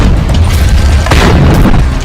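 A cheap rocket launched from the ground sets off a loud, close, sustained blast-like roar with a deep rumble that fills the whole clip and has no speech over it.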